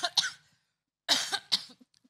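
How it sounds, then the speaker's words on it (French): A person with an illness coughs three times, a sharp single cough followed after a pause by two close, harsh coughs, loud and near in an otherwise quiet room. "je vais tousser parce que je suis malade"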